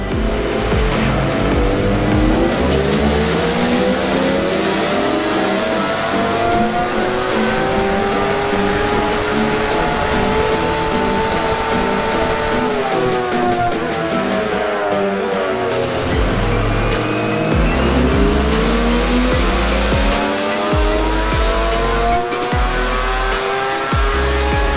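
A supercharged Jeep JK engine revs hard during a tuning run, a loud, sustained roar climbing in pitch, dropping briefly, then climbing again, close and continuous without talk.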